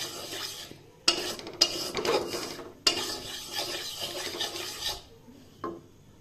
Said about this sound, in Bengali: এই দেখো এর মধ্যে ময়দাটাকে দিয়ে দিয়েছি, এটাকে ভালো করে এবার ভাজছি